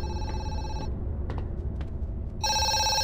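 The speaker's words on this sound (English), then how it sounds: "We're gonna get the phone call from the chick." Electronic telephone ringing in the video game Zoochosis, a loud bright repeating ring that plays, pauses through a quiet stretch with a few soft clicks, then resumes.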